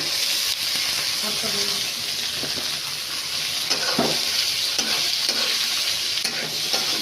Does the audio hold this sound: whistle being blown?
no